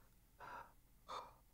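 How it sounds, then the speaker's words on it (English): Two close, quiet breaths in a film dialogue recording, each a short airy intake about half a second apart, with near silence between them and no speech. "There's some breathing here."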